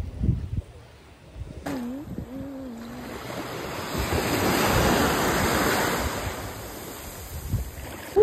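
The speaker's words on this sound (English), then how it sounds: "Finally made it to the beach." Gentle waves on a calm beach in St Croix wash in and swell louder midway, with wind buffeting the microphone and a brief hummed tone near the start.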